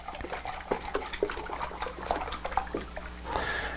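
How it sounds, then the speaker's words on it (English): Water poured into a quart container already holding dry humic acid fertilizer material, a close, continuous splashing and gurgling pour over a low background hum. "I'm just going to add some water and fill up that quart."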